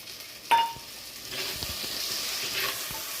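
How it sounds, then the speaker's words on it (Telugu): Tomato pieces drop into hot oil with a brief clatter, then a steady sizzle of frying rises and holds, close and moderately loud, with no talking. "ఇదిగోండి, ఇక టమాటా ముక్కలు వేసేస్తాం."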